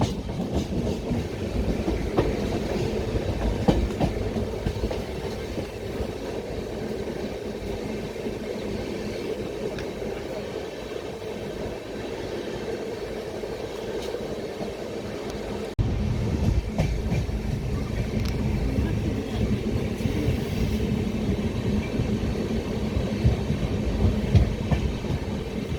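The Kanpur Bandra SF Express rumbles steadily along the track in dense fog in Rajasthan, a continuous loud roar of wheels and carriages with rhythmic clicks and no voices.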